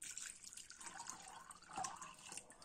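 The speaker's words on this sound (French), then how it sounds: "Vous mettez 1 litre d'eau." One litre of water poured in while making almond milk, a soft, steady splashing trickle heard close by with no talk.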